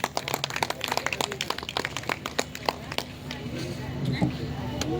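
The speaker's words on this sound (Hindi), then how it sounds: "तालियां बजते रहना चाहिए।" Audience applause at a Birsa Munda 150th Jayanti celebration: scattered, uneven hand claps in quick bursts, moderately near, fading into murmuring crowd noise toward the end.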